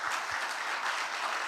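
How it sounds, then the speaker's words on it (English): An audience at a national banking and ethics challenge grand finale applauds in a dense, steady patter of many hands clapping at once, moderately distant and continuous for the whole short stretch. "Let's clap for them."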